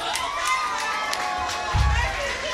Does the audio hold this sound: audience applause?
yes